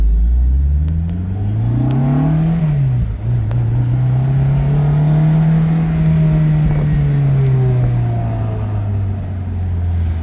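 A 2005 Honda S2000 roadster's engine while driving, close and steady, with a throaty drone that rises as the car pulls away, dips briefly at a shift, then holds and eases off without talk.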